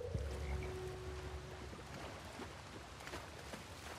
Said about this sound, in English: I heard a frog.